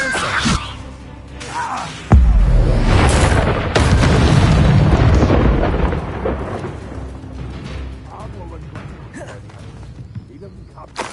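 An Incendio fire spell in Hogwarts Legacy bursts with a sudden loud whooshing boom, followed by a long rumbling fiery roar that fades out, amid game combat noise and some voices.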